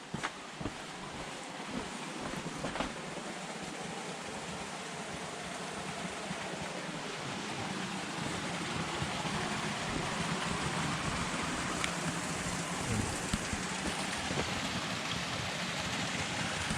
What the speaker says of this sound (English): Makeshift stream and waterfall, temporary stream and waterfall running nicely due to all the rain